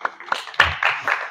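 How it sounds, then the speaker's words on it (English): Scattered hand claps from an audience at a spiritual talk, a few bursts of uneven clapping that swell briefly and stay moderately close. "Right at the beginning, we should give him an applause for Siddheshwar."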